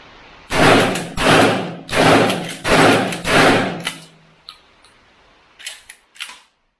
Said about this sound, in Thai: และการทดสอบนะครับด้วยกระสุนปืนลูกซอง OO buck นะครับของ Bullet Master ครับ